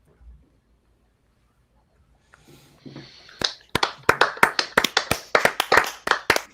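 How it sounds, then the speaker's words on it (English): An audience at a comedy roast breaks into clapping after a quiet pause, sharp individual claps building into a steady, close, rhythmic patter. "I'm only clapping because it's over and I don't have to hear you anymore"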